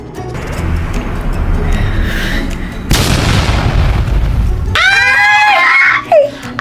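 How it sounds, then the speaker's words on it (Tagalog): An improvised boga cannon goes off outdoors with a sudden loud boom, followed by a roaring rush and then shrill screams and laughter from people nearby. "Boga yan? Sige nga, pasabugin mo!"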